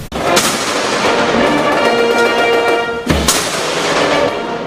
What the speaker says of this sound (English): Against the backdrop of cannon fire and fanfare, the Republic of China Taiwan welcomed Prime Minister the Honorable Dr. Terence Drew